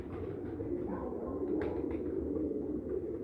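Pigeons coo softly in a breeder's loft, their low, muffled calls blending into a steady, dense background murmur.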